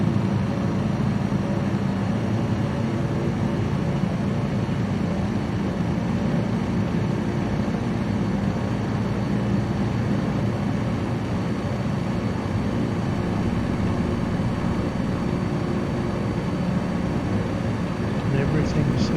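An airplane engine at full throttle in Microsoft Flight Simulator, a steady, dense, loud roaring drone that holds unchanged throughout.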